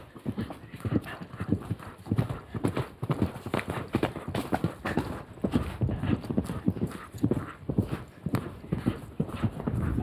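Horse galloping outdoors on a trail, heard as a steady, fast drumming of hoofbeats close and loud throughout, with a rider's voice faintly in places.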